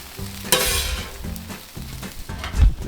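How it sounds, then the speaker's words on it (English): Salmon searing in olive oil in a pan, a steady close sizzle with scraping stirs and a few soft knocks, no talking. "Next we're just sealing the salmon"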